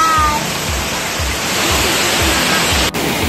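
A Hong Kong waterfall runs heavy after days of rain, giving a loud, steady broadband rush of falling water with soft, regular low thumps underneath. The roar continues without a break and no voices are heard.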